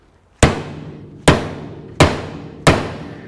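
Four sharp metallic hammer blows drive a socket extension onto the engine bolts of a 1993 Yamaha YZ 250 motorcycle, evenly spaced and close, each strike ringing briefly before the next.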